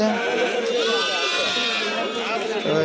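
Goats and sheep bleat loudly and almost continuously at the crowded Kadiri livestock market, with overlapping animal cries and background chatter.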